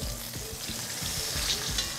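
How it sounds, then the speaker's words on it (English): Duck breast sizzles steadily in a hot pan, a bright continuous crackle with faint low knocks underneath, close and unaccompanied by speech. "And you can see it sizzling right here."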